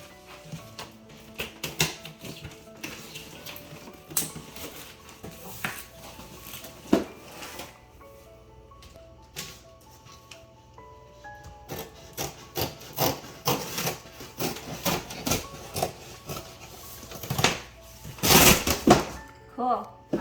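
Cardboard packaging being torn off the sides of a Dometic CFX cooler box, irregular ripping, scraping and thumping bursts that grow busier and louder toward the end, with a voice talking in between.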